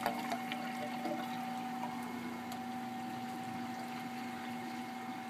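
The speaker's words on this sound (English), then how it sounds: "I like a nice sound of water." Steady flowing water from a pond pump in a backyard koi stock tank, constant mechanical hum, a faint continuous trickle and splash at low level, no voices.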